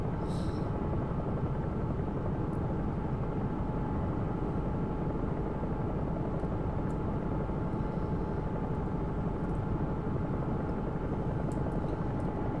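Steady, loud, continuous rotor and turbine drone of a Bell 222 helicopter in X-Plane 11, flying an air ambulance route to Aberdeen, an unbroken hum with faint ticks and no talk.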